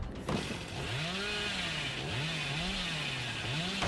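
The Hillbilly's chainsaw in the video game Dead by Daylight revs steadily with a droning, wavering engine whine that rises and falls in repeated swells, heard alone without talk.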